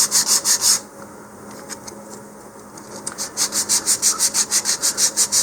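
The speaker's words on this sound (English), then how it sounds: "for my leading edge to round it off, I'm going to start by just sanding the corner edges there." Sandpaper or a sanding block rubbing back and forth along the leading edge of a LOC Precision LOC1 Patriot model rocket fin, in close, loud, steady rhythmic strokes with a short quieter pause partway through.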